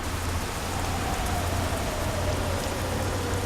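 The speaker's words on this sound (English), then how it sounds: "Oh, it's raining, that's why." Steady rain from the truck-driving game Euro Truck Simulator 2 on a windy, slushy road, an even, dense patter with a low rumble beneath and no voices.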